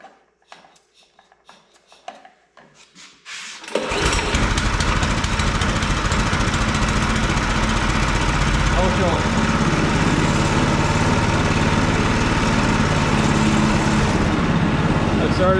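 A Yardmax snow blower's small engine catching on one pull after a few quiet handling noises, then roaring steadily and loudly close by with a rough, even idle.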